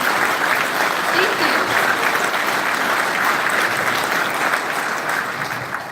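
Audience applause at a Bama Carry Freedom Conference, a dense, steady wash of many hands clapping close by for the whole stretch, tapering slightly at the end.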